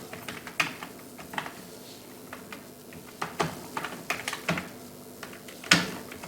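Typing on a computer keyboard in a quiet room, scattered sharp key clicks coming in short uneven bursts with sparse pauses and a few louder strikes.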